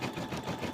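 A sewing machine runs steadily in a brief, continuous mechanical whir of rapid stitching.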